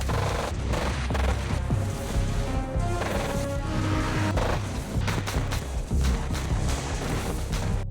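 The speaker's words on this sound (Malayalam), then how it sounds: "ഹാരി അവന്മാരെയൊക്കെ ഷൂട്ട് ചെയ്ത് വീഴ്ത്താൻ തുടങ്ങി" Gunfire in a spy action movie scene, with dense, continuous loud bursts and booms layered over a full action soundtrack and no spoken voices.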